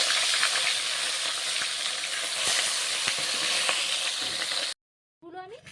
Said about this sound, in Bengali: একটু ডুবু তেলে কিন্তু মাথাগুলো মাছের ভেজে নিতে হবে।